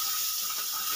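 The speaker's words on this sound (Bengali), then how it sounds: "এবার আমি 3 থেকে 4 মিনিট মতন মুড়িটা ভালো করে ভেজে নেব।" Softened puffed rice (muri) frying in a pan for spiced masala muri, a steady, dense hiss and sizzle that stays even and close for the whole moment, with no voices.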